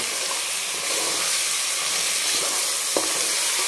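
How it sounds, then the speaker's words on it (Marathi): Ginger, garlic and coconut masala paste with turmeric and salt mutton frying on high flame, a continuous close hissing sizzle with faint stirring scrapes and a couple of sharp clicks near the end. "आणि मोठ्या गॅसवरच आपल्याला याला चांगलं परतून घ्यायचं"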